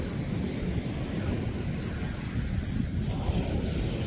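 Ocean surf at Gold Bluff Beach, California, on a calm, sunny day: a steady, moderately quiet wash of breaking waves with a low rumbling base, continuous and without voices.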